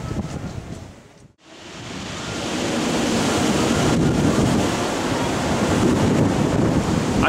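Sea swell and breaking waves beneath Brighton pier produce a loud, continuous surging wash that dips briefly near the start, then builds and holds steady and close, with gusty rumble and no talking.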